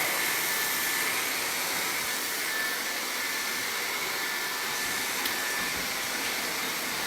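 A hair dryer blows at the roots of hair, a continuous loud broadband whoosh with a steady high motor whine, close and unbroken throughout with no talking.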